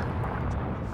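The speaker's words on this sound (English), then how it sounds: "I forgot there was an explosion!" An explosion in the video game Pikmin 3 Deluxe fills the moment with a dense, continuous rumbling roar, loud and broad, with no talk over it.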